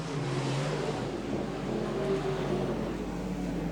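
Super sedan race cars roar through a heat, their engines making a continuous, somewhat distant drone with a faint rising whine over the hum of the track.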